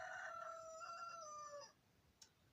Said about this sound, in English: Forgive the interruption by our rooster on our porch.